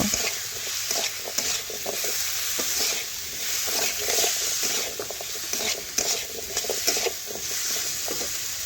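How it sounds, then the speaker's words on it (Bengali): Spices with Kashmiri chili powder frying in a pan while being stirred, a steady moderate sizzle with repeated scraping strokes of the spoon, heard alone without talk. "এখন ভালোভাবে নাড়াচাড়া করে সমস্ত মশলা ভালোভাবে মিশিয়ে নেব"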